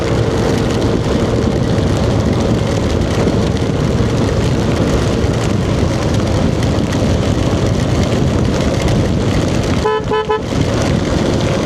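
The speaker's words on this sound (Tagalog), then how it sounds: "As you can see, medyo malakas yung patak ng ulan." Steady, dense downpour of heavy rain during a typhoon hisses through the whole stretch, loud and constant, with a brief tonal horn-like toot near the end.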